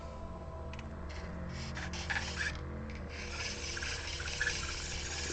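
Sanding by hand on a sculpted bearded head of the Elden Ring character Godfrey, a steady close rasping rub running throughout with slight surges, no talking.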